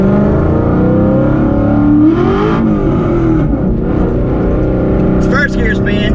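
Coyote V8 in a Ford Fox body roars loud and steady while the rear tires spin in first gear, the engine note rising and shifting with a brief high squeal near the end.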